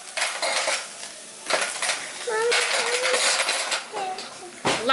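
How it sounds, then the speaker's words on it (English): A spoon stirs a thinned taco mixture in a bowl, giving bursts of bright metallic clinks and scraping swirls, close and fairly loud, with short pauses between strokes. "you want to stir it up a little bit."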